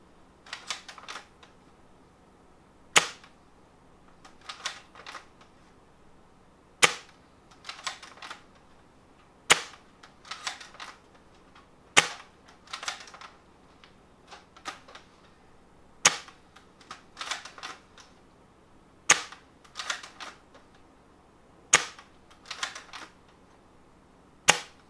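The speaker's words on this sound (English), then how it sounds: "this is the chrono test for the M24" An M24 airsoft sniper rifle fires during a chronograph test, sounding as sharp single snaps spaced several seconds apart, each followed by a short clatter of bolt cycling and handling, close and clear with no talk.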